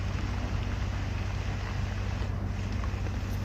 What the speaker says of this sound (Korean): 비가 정말 그칠 것 같지 않게 쏟아지고 있어서